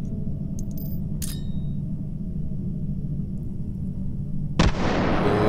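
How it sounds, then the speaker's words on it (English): A hand grenade goes off in Hot Dogs, Horseshoes & Hand Grenades as one sharp, loud blast late in the clip. A few small clicks come first over a low steady hum, and a hissing, rumbling tail follows the blast. "Let's give this grenade a go."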